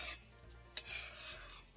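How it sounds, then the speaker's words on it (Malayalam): A pot of coconut and sesame herbal oil boils while being stirred, a faint bubbling sizzle with a single sharp scrape of the utensil against the pot, close and brief. "എള്ളെണ്ണ ഒഴിച്ചത് കൊണ്ട് തന്നെ ഇത് നല്ലപോലെ തിളച്ച് പൊങ്ങി വരികയാണ്."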